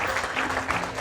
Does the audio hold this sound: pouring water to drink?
no